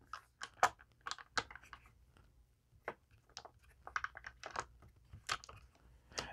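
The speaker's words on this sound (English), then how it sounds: "So just to throw some dice in here so you can see what that looks like." Several Yu-Gi-Oh! dice, slightly larger than standard ones, are tossed into a dice tray built into a Dektech Titans deck box, giving sharp clattering taps and rolling clicks in scattered bursts, close and clear with no talking.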